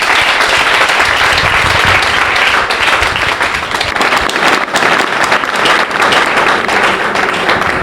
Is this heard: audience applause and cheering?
yes